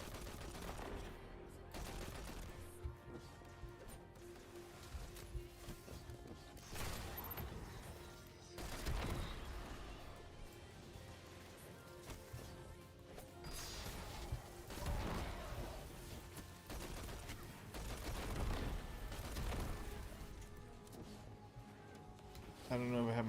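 Gunfire and explosions in the video game Destiny, repeated bursts of shots and blasts spread through the stretch at moderate loudness, with a player talking over them.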